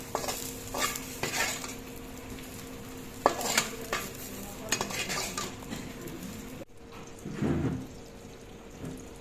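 Soybean chunks and vegetables being stir-fried in a pan, with repeated scraping and stirring scrapes of a utensil and a soft sizzle, closely heard, a brief louder burst of frying near the end.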